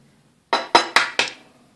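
An egg taps sharply against a bowl of hot cake mix and evaporated milk: four quick, close clinks in an even rhythm, then quiet.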